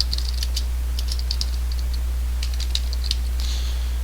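Keys clatter in short bursts of typing on a computer keyboard, light and close, with pauses between runs over a steady low electrical hum.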